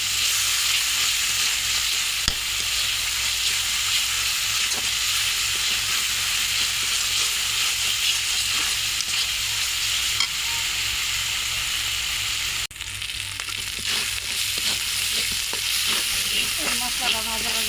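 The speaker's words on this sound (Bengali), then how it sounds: "মশলাটা সুন্দর মতো ভাজা করে নেব" Spices with green chilli, turmeric powder and salt sizzle steadily in a frying pan, a constant loud hiss with occasional scrapes of stirring throughout.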